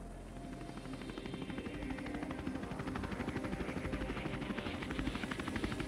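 A medevac helicopter's rotor thumps in a rapid, steady beat, growing louder as the aircraft draws nearer during a steep mountain rescue.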